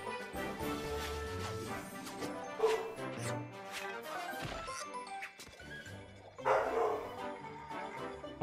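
Dogs bark in a house, several sharp woofs and yips bursting out over a cartoon soundtrack with bangs and crashes, the barks loud and intermittent across the stretch.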